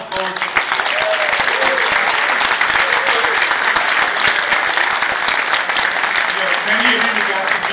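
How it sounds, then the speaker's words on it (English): A large crowd at a corporate party in a downtown Chicago Hyatt gives a sustained round of loud applause, dense clapping filling the room from start to finish, with a few voices and cheers mixed in. "if I get a really big round of applause for all the folks."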